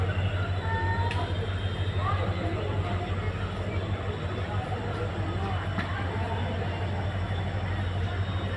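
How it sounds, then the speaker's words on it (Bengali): Rangiya North passenger train 5589 pulling out of a crowded station, a steady low mechanical rumble and hum continuing throughout beneath faint crowd babble. "এই যে রঙাপাড়া রেল গেতেছে, রঙাপাড়া রঙামাটি এই ট্রেন এটা গেতেছে"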